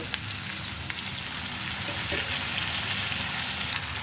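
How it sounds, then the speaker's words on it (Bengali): Ground spices (cumin, coriander, Kashmiri chilli, turmeric) cooking in a pan with a splash of water give a dense, steady sizzle, with occasional light clicks of stirring. "একটু সামান্য পরিমাণ জল দিয়ে আমি মশলাটাকে ভালো করে কষিয়ে নেব"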